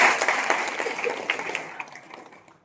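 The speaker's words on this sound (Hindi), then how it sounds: "ये इतने साथी एक बार इनके लिए जोरदार ताली बजाएं।" An audience claps and applauds at a business meeting, a dense burst of clapping that fades out over a couple of seconds.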